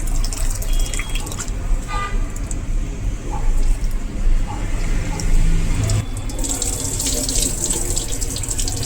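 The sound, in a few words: washing sago in water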